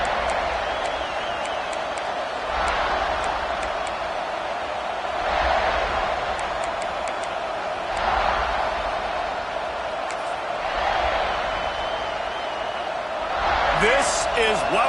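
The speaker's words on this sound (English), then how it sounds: "This crowd ready to make its presence known." Football stadium crowd roaring in waves beneath a broadcast, swelling and easing, with occasional sharp knocks and a late burst of cheering as a commentator speaks over it.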